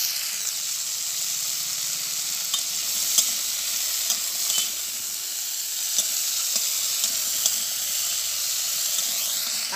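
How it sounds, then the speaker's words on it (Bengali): Ripe jujube fruits fry in a pan with tempering spices and salt while being stirred for chutney, giving a steady close sizzle and hiss broken by regular light scrapes of the stirring spoon. "কুলগুলোকে কিন্তু এইভাবে নেড়ে চেড়ে ভাজা ভাজা করে নিতে হবে"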